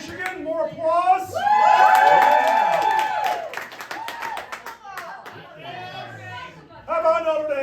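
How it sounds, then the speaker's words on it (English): Comedy club audience at the Underground Laugh Lounge in Niles, Michigan, bursting into loud clapping with whoops and cheers, sustained for several seconds, tapering briefly, then swelling again, mixed with crowd chatter. "More applause."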